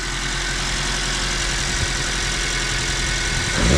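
A Kei car engine runs at a steady idle, close and loud, then starts to rise into a rev at the very end.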